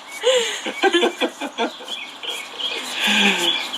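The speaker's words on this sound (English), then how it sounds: "spring has sprung, the birds are singing" Birds chirp and sing outdoors on a spring day in Boston, bright twittering calls heard around and beneath a person talking close by.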